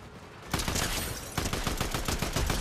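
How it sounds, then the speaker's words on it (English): Rapid automatic gunfire from a Fortnite match, a steady loud burst of shots starting after a brief quiet moment and continuing with periodic heavier reports, with no voices over it. "I'm shooting minions"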